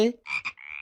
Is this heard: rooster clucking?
no